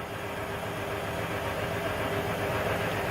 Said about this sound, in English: Sorry if you can hear the washing machine in the background.